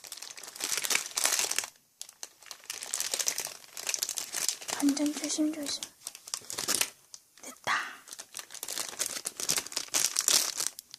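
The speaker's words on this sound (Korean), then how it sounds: "비닐 소리 양해 부탁드리고요." Close, loud crinkling and rustling of plastic wrapping in repeated bursts, with a hushed voice speaking briefly in between.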